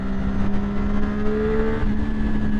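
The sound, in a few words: Triumph Daytona 675 motorcycle engine revving in third gear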